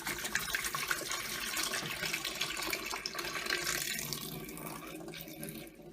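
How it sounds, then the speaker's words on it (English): Water collected from the container of a Hotpoint Aquarius tumble dryer pours out in a continuous splashing stream, close and fairly loud, tapering off near the end with no voices. "the water can be poured out"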